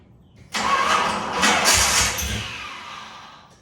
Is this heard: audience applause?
no